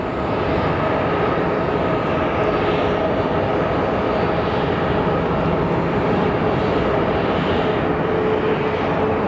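A United airliner in Evo Blue livery at Phoenix Sky Harbor Airport gives off a continuous broadband engine roar, loud and steady throughout with no clear rise or fall.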